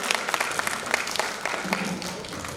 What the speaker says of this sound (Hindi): एक बार जोरदार ताली वरुण भैया के लिए।